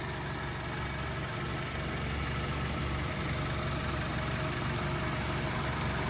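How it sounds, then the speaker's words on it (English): A 2012 Mazda 3 engine idling smoothly and steadily, a constant low hum heard close up with no other sounds. "nice and smooth running engine"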